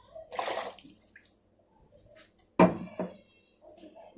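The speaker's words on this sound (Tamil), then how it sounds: "இதில் தேவையான அளவு தண்ணி சேர்த்துக்கோங்க." Water pours into a cooking pot in a short gush, then a few splashes and clinks follow, with quiet gaps between.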